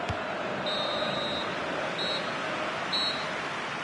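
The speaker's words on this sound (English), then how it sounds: "There it is, the final whistle." A referee's final whistle at a professional football match involving Wesley Sneijder: one long shrill blast and two shorter ones, cutting through a constant roar from a large stadium crowd.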